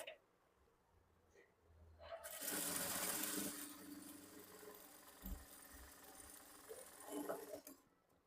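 A sewing machine runs in a burst while stitching a fold on a blouse, a steady mechanical whir that starts abruptly and then continues more softly with a few brief clunks.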